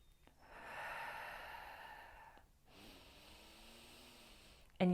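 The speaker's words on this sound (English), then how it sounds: "you literally are going to breathe in" A single slow, deep belly breath is drawn in through the nose as diaphragmatic breathing, close and soft, then a brief pause and a gentler breath before a sudden sound at the end.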